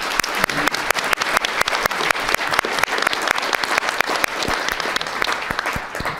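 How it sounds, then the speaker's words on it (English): An audience at an investment and development forum gives a panel a big round of applause: loud, dense clapping close by with sharp individual claps standing out, continuous throughout with no talking. "Let's give a big round of applause for our panel today."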